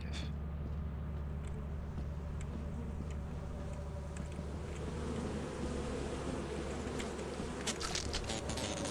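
Steady insect buzzing from a swarm of bees in the Lethal Company horror co-op game, a continuous dense drone held at an even level, with faint clicks and ticks toward the end.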